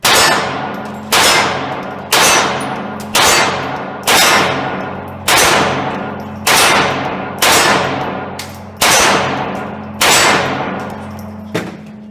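A Ruger Mark pistol fires a steady string of about eleven sharp shots, evenly spaced at roughly one per second. Each crack carries a ringing metallic clang as the bullet strikes a steel torso target outdoors, and the ring decays before the next shot.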